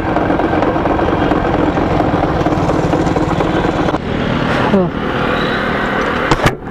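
A faulty motorcycle engine idles close by, rough and loud with a ragged, uneven rumble, briefly dipping and shifting pitch before a sharp clack near the end.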